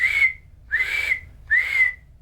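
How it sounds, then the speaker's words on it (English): A survival whistle sounds three long bursts as a distress signal, each shrill blast rising slightly in pitch and then cutting off, evenly spaced, loud and close over a low background rumble. "The whistle, teach your kids 3 long bursts."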